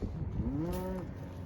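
A single close, loud moo from a cow or calf in a spring calving pasture in Kentucky, a drawn-out lowing call rising and falling over about half a second amid steady outdoor background.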